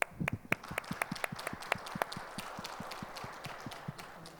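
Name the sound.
church congregation applauding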